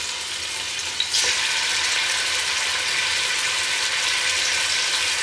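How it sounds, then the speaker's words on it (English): Oxtail pieces sizzle in hot oil, a loud, steady crackling fry that fills the whole stretch with no talking over it. "There you go, it's sizzling, so you know it's ready to go."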